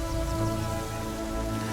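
Light rain falling in the strategy game Total War: Pharaoh, a steady soft patter and hiss of drops on the ground that runs evenly throughout with no voices.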